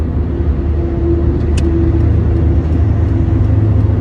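A car fitted with Monroe shock absorbers cruising at highway speed through a sudden lane change, heard from inside as a steady low engine and road rumble with a faint tonal hum and no sharp events.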